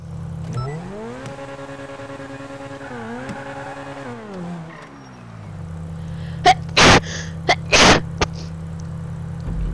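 A person sneezes twice, sharp and close, near the end. Before that, a car engine in the GTA video game revs, rises and falls steadily.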